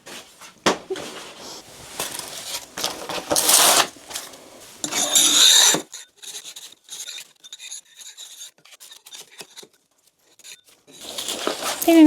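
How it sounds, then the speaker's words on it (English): Close-up tearing and scraping as wallpaper is peeled from a bedroom wall in bursts, with brief rustles and quiet gaps between pulls. "Peeling the wallpaper off this way means that the glue's not getting reactivated"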